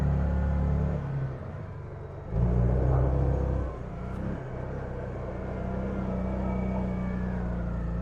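A quad bike's engine rumbles steadily while riding on a short track in Warsaw, with deep, close throttle surges and brief revs rising and falling over a continuous low drone.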